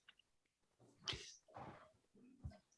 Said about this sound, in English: I had to lean over and sneeze